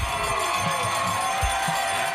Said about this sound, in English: Among those cheering in the crowd, the new girl in class, 16-year-old Savannah